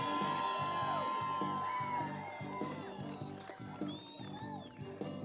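An audience at a lumberjack show cheers, yells and whoops for the red team, loud at first and then easing into scattered shouts and crowd noise.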